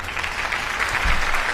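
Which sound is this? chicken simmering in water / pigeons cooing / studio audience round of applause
studio audience round of applause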